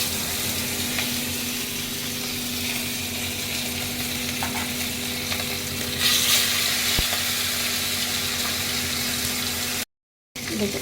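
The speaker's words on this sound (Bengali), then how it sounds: "সর্ষের তেলে রান্নাটা হবে আমি তেল গরম হয়ে গেছে এখন আমি এক এক করে মাছগুলো ছেড়ে দিচ্ছি" Chital fish belly pieces fry in hot mustard oil with a close, steady sizzle and occasional sharper crackles, swelling briefly near the end before a short dropout.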